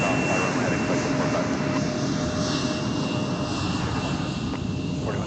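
A jet airliner at Minneapolis–Saint Paul airport rolls for takeoff, its engines giving a steady, broad roar heard from a distance across the airfield.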